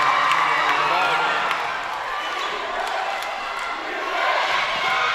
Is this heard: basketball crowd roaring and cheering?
yes